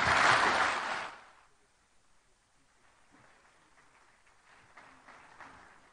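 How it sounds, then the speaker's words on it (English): An audience at an Africa conference in Nairobi applauds after the Kenyan president's speech, a loud burst of clapping that fades after about a second into quiet room noise and faint murmurs. "one more round of applause for His Excellency"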